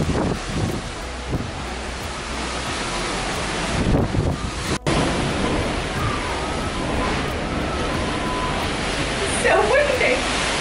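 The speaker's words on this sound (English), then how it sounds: "So windy!" Strong wind buffets the microphone on a cruise ship balcony above the ocean, a loud continuous roar with gusts and faint surf beneath.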